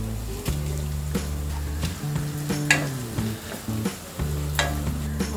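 Onions fry and sizzle steadily in a pan, seasoned earlier with curry leaves, slit green chillies and dry red chillies for a moong dal khichdi, while a utensil stirs through them with scraping knocks in an even rhythm.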